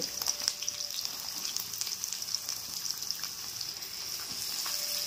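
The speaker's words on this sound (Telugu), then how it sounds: "ఇవి లైట్గా గోల్డెన్ కలర్ వచ్చే వరకు ఈ విధంగా ఫ్రై చేసుకుందాం" Thinly sliced onions frying in oil for mutton curry, a soft, steady sizzle with light bubbling crackle, close but quiet and continuous without talk.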